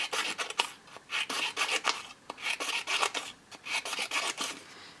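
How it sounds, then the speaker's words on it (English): Scissors cut strips of card up close, a rapid series of crisp snipping and rasping strokes in uneven bursts, fairly quiet with no talking. "I just simply cut like this on the card."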